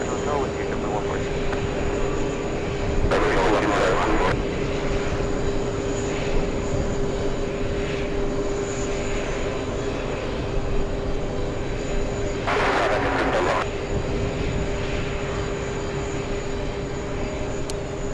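Jet airplane taking off at JFK airport near the TWA Hotel, a loud sustained engine roar that holds steady throughout with a constant whine, with brief bursts of broadband noise and people talking over it.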